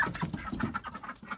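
Backyard chickens in a coop cluck in quick, soft bursts, several short calls in succession heard at close range, with no one talking.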